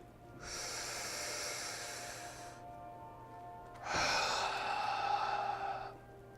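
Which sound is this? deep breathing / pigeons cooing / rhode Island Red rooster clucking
deep breathing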